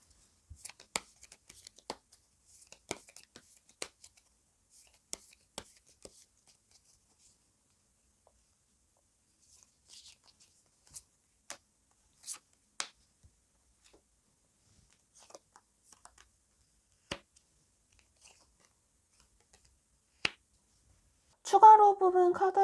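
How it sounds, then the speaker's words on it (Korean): Tarot cards being shuffled and extra cards drawn, heard as sparse soft flicks, taps and slides close by in a quiet room, with a burst of denser card sound at the very end. "이분은 제가 추가 카드 몇 장 더 뽑아볼게요."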